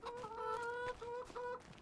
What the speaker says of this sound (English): Yeah, the chickens are doing good.